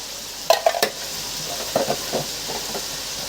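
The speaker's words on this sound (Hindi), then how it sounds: "टमाटर फ्राई हो चुके हैं, अब मसाले ऐड करूंगी।" Tomatoes sizzle steadily in a pan for aloo gobhi while spices are stirred in, with a few close scrapes and clinks of a spoon against the pan over the hiss.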